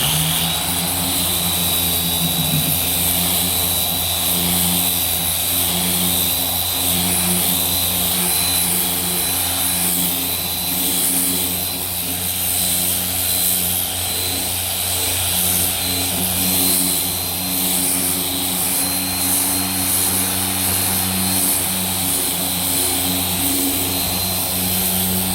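A Porter Cable DA sander works over a dented car door with a loud, steady, continuous whirring drone that holds an even pitch close by for the whole stretch, with no talking.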